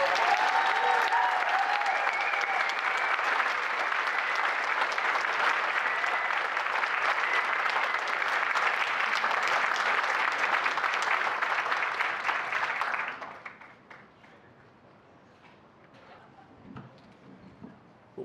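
Sustained audience applause at a Lake Oswego Chamber of Commerce networker and Rookie of the Year event, welcoming Dan Brown to the podium; steady dense clapping for about thirteen seconds, then dying away to quiet room tone.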